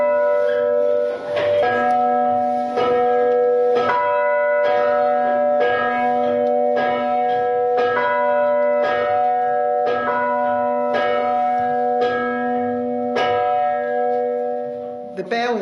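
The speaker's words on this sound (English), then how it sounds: "the bell is the oldest thing in the church" A church bell rings in the medieval tower of Kirkcaldy Old Kirk, sounding about a dozen evenly spaced strokes whose metallic overtones hang on between strikes, loud and steady.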